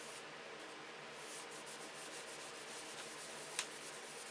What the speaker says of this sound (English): Sanding with 1000 grit now.